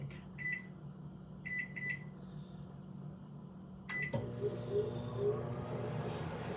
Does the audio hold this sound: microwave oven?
yes